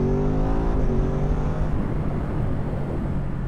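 A 2024 Ducati Supersport 950 S motorcycle engine revs hard under acceleration, its loud, rising mechanical howl sweeping upward and then settling into a rough, sustained drone while riding, with no talking.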